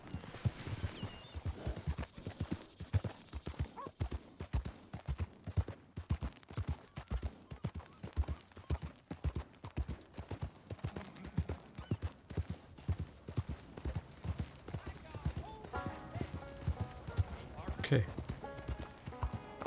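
Horse hooves clip-clopping in a steady galloping rhythm while riding toward Blackwater in Red Dead Redemption 2, continuous and fairly close, with game music and a brief spoken word over it.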